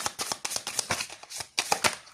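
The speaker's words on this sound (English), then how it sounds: "I'm shuffling cards only once for a love life, career, personal message," Tarot cards are shuffled by hand in quick crisp bursts of riffling and slapping, close and fairly loud, with a brief pause midway before another flurry.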